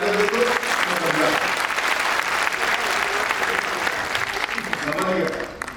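An audience at a Hindi poetry gathering (kavi sammelan) breaks into sustained, dense clapping that carries on for several seconds, with voices audible beneath it.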